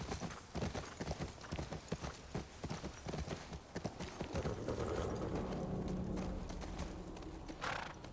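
Horse hooves clip-clopping in The Last of Us Part II, a rhythmic series of close hoof strikes that settles into a steadier gait, with a brief whinny-like snort toward the end.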